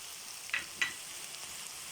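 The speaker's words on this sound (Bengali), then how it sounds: "পেঁয়াজটা দিয়ে এখন ভালো করে ভেজে নেবো" Onion frying together with bitter gourd and broad bean seeds for a Bengali bhaji, a steady soft sizzle with two brief louder crackles or stirring scrapes near the start, no talking.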